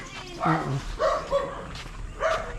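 Several dogs barking in short bursts a little way off on a rural road, three or four barks spread across a few seconds, over light background noise.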